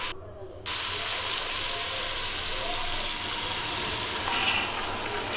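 Tomatoes sizzle in a hot pan for vegetable pulao, giving a steady, close frying hiss that starts after a brief quiet moment and runs evenly to the end.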